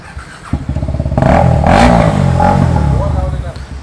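A KTM motorcycle with its exhaust removed revs hard up close, the raw, crackling engine note surging loud and rising in pitch, then holding a sustained roar before easing off.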